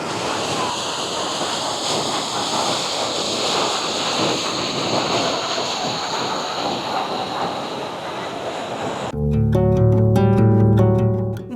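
River water at the confluence of the Bhairavi and Damodar rivers rushes in a loud, steady broadband flow, cut off near the end by music.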